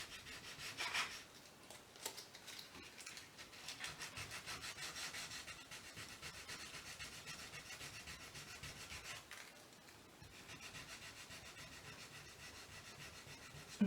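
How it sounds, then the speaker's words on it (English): Light hand sanding of chalk-painted wood with 220 grit sandpaper, a soft continuous rasping scrub in back-and-forth strokes, close but quiet, with a brief lull partway through. "use it a little light sanding right where I feel like I have too much white in a row or just blobbed on"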